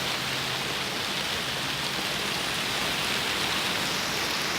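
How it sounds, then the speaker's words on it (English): Torrential rain pours down on a Pittsburgh permaculture garden, a dense, unbroken roar of drops that stays loud and even throughout, with no talking. "Intermittent torrential downpours, between which I can get some work done."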